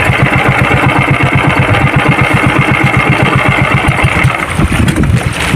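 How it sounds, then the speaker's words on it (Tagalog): Fishing boat engine chugging steadily in a fast, even rhythm, loud and close throughout with no talk, easing slightly near the end as it is about to be switched off at sunset on the water. "patayin na natin ito ating makina"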